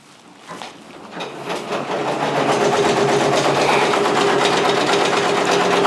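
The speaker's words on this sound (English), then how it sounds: "It's going to do the placement stitch for where my Velcro needs to be." A Brother PRS100 embroidery machine sews a Velcro placement stitch on a beanie at about 500 stitches per minute, rising from quiet clicks into a loud, steady, rapid mechanical whir.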